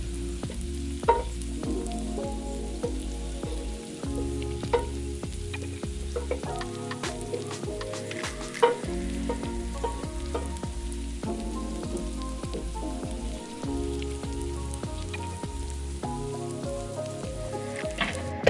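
Diced potatoes fry in a pan for aloo arbi, giving a steady soft sizzle with scattered crackles and the occasional stir, with no talk over it.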